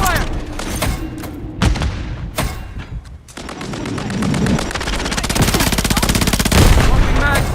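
Rapid automatic gunfire and scattered shots in a video game assault on a hardpoint, with dense bursts of machine-gun fire building louder toward the end, a few heavy thuds between volleys, and voices calling out amid the shooting.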